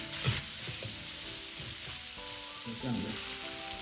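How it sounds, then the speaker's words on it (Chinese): Green beans stir-fried with salt in a wok over medium-low heat give a soft, continuous sizzle, with a few spatula scrapes and knocks breaking through. "放入适量的盐一起翻炒，这样豆角更容易入味"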